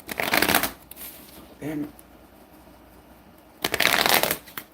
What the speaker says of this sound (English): The cards wouldn't shuffle right.